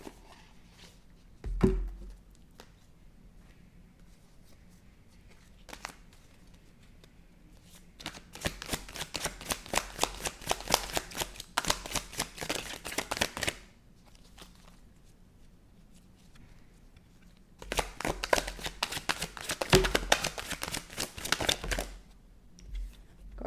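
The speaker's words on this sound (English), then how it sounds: "I am going to pull a card of this" Oracle cards shuffled for a reading, close riffling in two long rapid bursts separated by quieter pauses with a few isolated taps, no voices.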